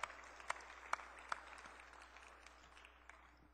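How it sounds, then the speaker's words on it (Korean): A church congregation gives welcoming applause to a first-time visitor: a handful of distinct claps at first, then soft, distant, thin clapping that fades out in a reverberant sanctuary. "환영의 박수 드리겠습니다."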